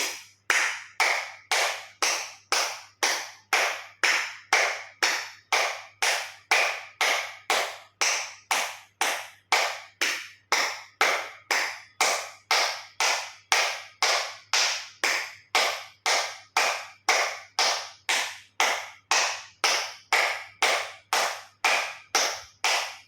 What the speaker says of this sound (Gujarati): અંગૂઠા બધું ટચ થાય રીતે જોરથી 50 વખત તાળી આપીશું.